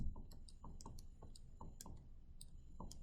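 Calculator keys pressed one after another to enter X values into a list, a quick irregular run of small plastic clicks and ticks, close and fairly quiet, with no talking.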